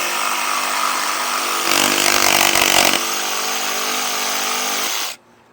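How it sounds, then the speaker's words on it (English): A WORX Blade Runner upside-down jigsaw cuts material with a loud, steady buzzing motor whine that grows harsher for about a second mid-cut, then runs on evenly before cutting off abruptly near the end. "one way to do it is with a jigsaw"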